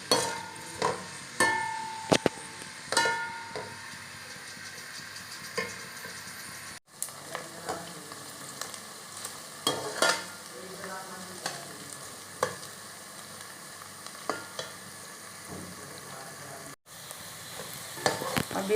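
Chopped onions fry in a little oil in a pan, browning, with a soft continuous sizzle and frequent scraping, clinking stirs of a spoon against the pan throughout.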